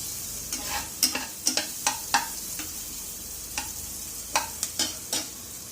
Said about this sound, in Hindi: देखंतु मो पियाजटा गोल्डन ब्राउन कलर हे गलानी।